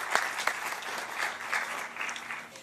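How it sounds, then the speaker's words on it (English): Audience applause for a man being honored at a community education program meeting, a moderate, steady round of clapping from a small-to-medium crowd with a few sharper claps, gradually tapering near the end. "let's give Daryl a big round of applause for all that he's done for the CEO program"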